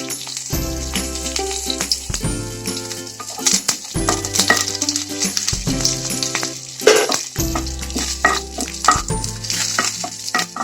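Dried red chilies and curry leaves fry in hot oil for a Kerala mango pickle. A steady crackling sizzle runs throughout, broken by repeated scraping and clinking stirs, with background music underneath.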